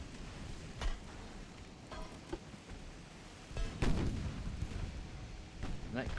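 Naval gunfire from warships in the video game Ultimate Admiral: Dreadnoughts, with several deep booming salvos at irregular intervals over a constant low rumble, one heavier blast standing out near the middle.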